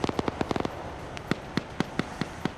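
Mortar fire in a tactical shooter video game: a rapid cluster of sharp, cracking reports, then single distant thuds spaced out at irregular intervals.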